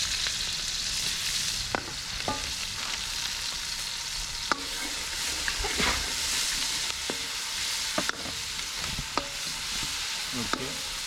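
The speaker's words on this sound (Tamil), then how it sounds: "அடுத்து இஞ்சி பேஸ்ட்டு, இஞ்சி பேஸ்ட்டு போட போகிறோம்." Ginger paste frying in a hot pan for chicken fried rice, a loud continuous sizzle broken by frequent scraping clicks of a spoon stirring, with no voices.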